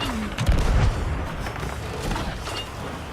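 A heavy ship's cannon booms in a Sea of Thieves naval battle, a loud low thud early on followed by rumbling, crackling combat noise and scattered impacts, with no talking.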